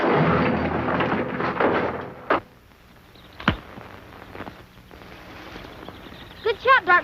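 A single sharp gunshot effect from a radio drama set in the Old West, a loud brief crack around the midpoint standing alone after dialogue, with a few lighter knocks and thuds trailing afterward.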